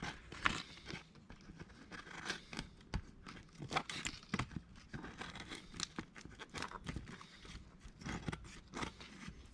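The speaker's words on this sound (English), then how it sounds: "Got to be some of the dullest scissors on the face of the planet." Dull scissors cut through chrome vinyl wrap, giving irregular crinkling, tearing and crunching snips, close and fairly quiet, with no one speaking.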